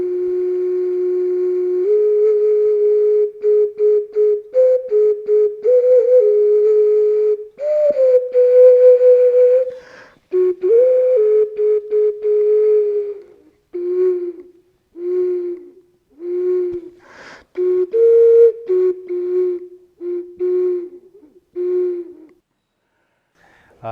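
A ceramic whistle mask sounds a series of clear, breathy tones at shifting pitches, long held notes giving way to short repeated toots, played alone.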